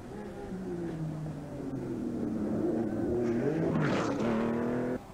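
A Group B rally car on a tarmac stage of the 1985 Circuit of Ireland Rally passes with a rising and falling engine drone, swelling as it nears and revving harder before fading, with a voice faintly under it.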